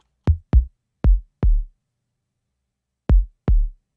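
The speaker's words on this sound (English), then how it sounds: "And a tom groove" Organic house tom drums from a sample pack play a sparse groove of deep, boomy hits, two quick pairs then a pause before another pair, dry and close with silence between.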